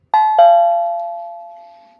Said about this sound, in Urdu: کچھ دیر بعد دروازے کی گھنٹی بجی۔